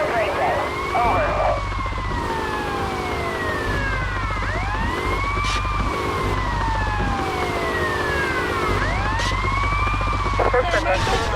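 Several police car sirens wail and overlap in GTA Vice City, rising and falling in repeated sweeps over a low engine drone, with radio chatter underneath.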